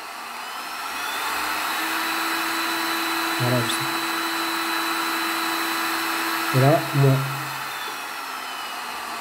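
A Parkside digital heat gun's fan blows with a continuous whooshing drone at its lowest speed, holding steady, while someone speaks briefly in French over it.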